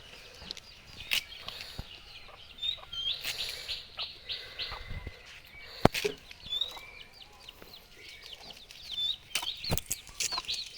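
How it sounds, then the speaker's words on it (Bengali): Backyard chickens kept as a hobby flock on a small farm, clucking and chirping intermittently at moderate distance, with scattered sharp knocks and rustles around them and no talk. "এই মুরগিগুলো আমাদের"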